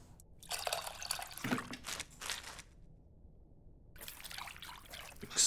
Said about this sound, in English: Looks like I have to mix tamarind with the water to excrete the essence multiple times.